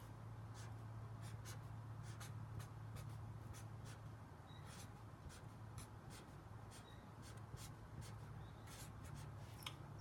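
A title is handwritten on paper for a plant-sketching lesson: a series of short, close pen scratches and strokes in quick irregular bursts over a quiet room hum, with no talking.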